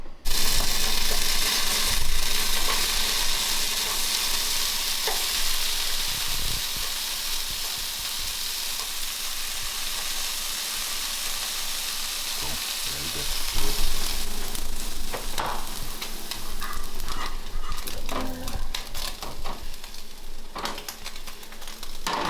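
Steady, close sizzling and crackling of eggs and turkey bacon frying in a pan for breakfast, with occasional scrapes and stirring clatter, no talk.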